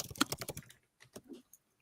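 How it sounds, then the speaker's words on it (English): Quick, close bursts of keystrokes on a computer keyboard: a rapid run of taps, a short pause, then a few scattered clicks. "There he goes typing again."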